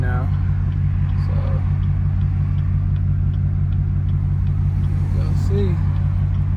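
A tuned Camaro SS rumbles loud and steady under hard acceleration in third gear, a thick low engine drone running throughout while people talk over it.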